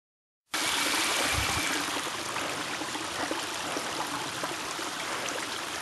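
Spring water streams and trickles steadily along the Butterfield Trail in Devil's Den State Park, a close, continuous babble that starts abruptly and runs alone without any voices.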